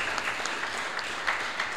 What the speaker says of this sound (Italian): un applauso a questi 43 angeli che sono finiti in cielo ci vuole